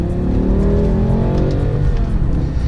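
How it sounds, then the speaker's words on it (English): A four-door, five-seat car with a V10 engine that revs to about 8,200 RPM accelerates hard, its loud, dense engine note climbing steadily in pitch as it revs, close and with no one talking over it. "So the thing I love about this car is that it revs and revs and revs."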